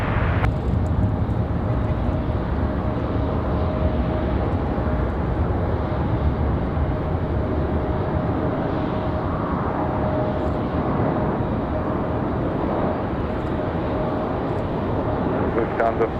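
An Endeavor airliner lands on runway 5 left at Raleigh-Durham International in windy conditions, giving a continuous, even jet rumble and wind noise throughout, with voices talking faintly underneath.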